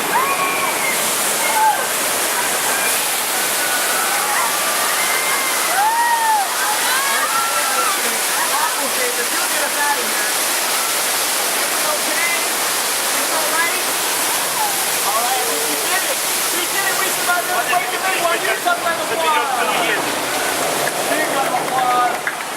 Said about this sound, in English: The water main is broken on the right.